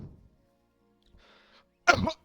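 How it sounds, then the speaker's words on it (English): A single short, harsh cough breaks the quiet near the end, close and fairly loud after a faint murmur. "You probably hear a cough there, right?"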